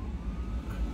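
A steady emergency siren wail drones in the background, continuous and fairly loud throughout.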